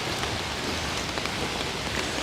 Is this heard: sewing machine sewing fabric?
no